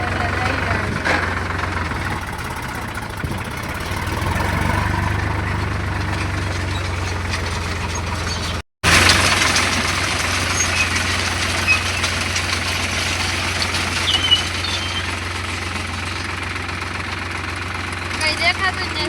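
A tractor engine idles with a steady low rumble and mechanical knock while stones are gathered by machine, holding on near and constant apart from a brief cut-out midway.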